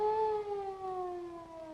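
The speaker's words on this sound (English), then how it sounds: "That sounds like a police car to me." A 1930s police car siren wails steadily on a single pitch that slowly falls, moderately loud and alone with no voices over it.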